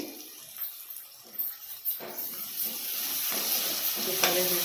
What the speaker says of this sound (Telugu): ఇప్పుడు ఆనియన్స్ ఇట్లా వేగాలండి ఇట్లా కొద్ది ట్రాన్స్పరెంట్ అయితే చాలు